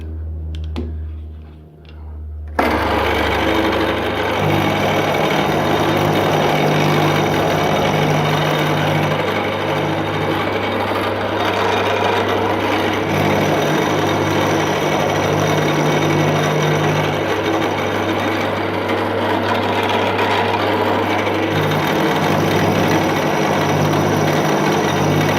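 Milling machine taking a conventional cut on an aluminium punch profile, cutting in a steady, loud, continuous whine with a rhythmic pulsing hum after a brief quiet start.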